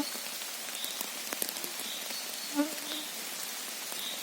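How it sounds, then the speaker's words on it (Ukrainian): Steady soft patter of rain falling on a surface, a continuous hiss with a few brief louder drops, no voices. "хай краще йде дощ"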